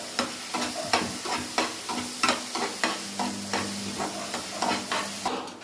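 Onions and ginger-garlic paste sautéing in a pan for a mushroom dry, with a spoon scraping through them in a steady rhythm of regular strokes over a continuous sizzle, close by and without talk.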